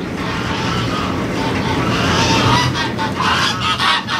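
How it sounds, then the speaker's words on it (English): Geese honking in a noisy outdoor flock, loud and continuous, with overlapping calls and a busy broadband background throughout. "As soon as the geese lost it, Doug came out."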